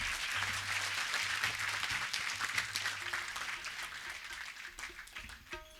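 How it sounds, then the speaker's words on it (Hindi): An audience at a religious satsang gathering claps to welcome a revered spiritual leader: steady, quiet applause from a crowd that slowly thins and fades toward the end, with a low hum in the background. "जोरदार तालियों स्वागत, अभिनंदन।"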